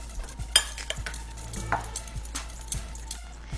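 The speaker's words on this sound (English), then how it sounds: "Now mix it up." A spoon stirs sandwich dressing of mayo, red wine vinegar, Italian seasoning, garlic and onion powder, salt and pepper in a bowl, giving soft wet scrapes and a few light knocks at an irregular pace, close and fairly quiet.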